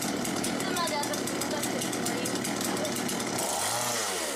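A chainsaw running loud and steady at full throttle, its harsh buzzing engine dominating throughout, with voices mixed underneath and the motor pitch dropping as it throttles down near the end.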